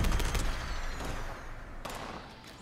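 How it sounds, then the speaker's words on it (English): Shotgun fire in a video game, heard as loud, dense bursts of gunfire that start strong and then trail off into a rumbling tail, with one more burst near the end. "I'm gonna start shooting you in the sky."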